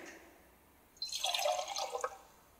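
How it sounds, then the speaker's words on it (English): Deionized water pours into a container for about a second, a close splashing gush that rises and trails off into drips. "add our deionized water"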